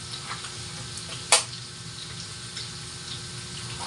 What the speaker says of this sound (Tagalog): Kailangan ko na itong lutuin. Magprito.